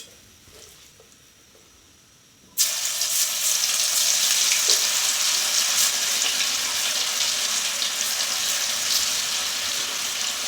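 Chicken pakoda pieces drop into hot oil after a quiet start, setting off a loud, steady frying sizzle with dense crackling that holds to the end.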